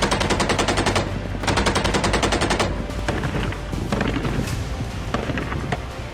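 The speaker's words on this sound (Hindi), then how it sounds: "दोनों देशों के बीच इस्लामिक रिपब्लिक बॉर्डर पर भी जबरदस्त गोलीबारी हुई" Heavy automatic gunfire at the Afghanistan–Iran border, with rapid sustained bursts of machine-gun fire followed by scattered single shots, loud and close.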